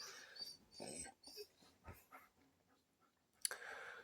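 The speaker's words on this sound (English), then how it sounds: "The dogs are making noise" Faint dog noises nearby: snuffling, panting breaths and a few soft whimpers in short irregular bursts, with a sharp click near the end.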